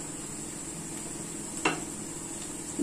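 Whole spices including almonds, nutmeg, cloves and cinnamon roasting in a pan for chicken biryani give a soft steady sizzle with light stirring scrapes, one sharper clink midway, close and fairly quiet.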